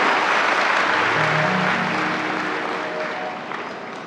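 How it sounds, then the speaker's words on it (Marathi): Crowd at a Marathi religious discourse at Devgad clapping together to welcome honored guests, a sustained dense burst of applause that slowly fades, with a faint voice droning beneath. "सर्वांनी टाळी वाजवून त्यांचं स्वागत करायचं"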